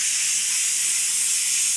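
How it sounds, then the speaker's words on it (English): Steam cleaner running steam only, with no vacuum or extraction, on narrow hotel shower grout lines, giving a steady, loud, continuous hiss that holds unbroken from start to finish. "So we are going to just simply steam only, no vacuum or extraction"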